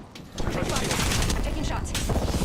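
Rapid bursts of gunfire from a video game, dense and loud, running nearly continuously after a brief quieter start, with a player talking over the shooting.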